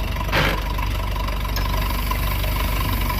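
A 1964 J I Case 830 tractor engine idling steadily with a low, even throb, loud and close, with a brief burst of noise early on.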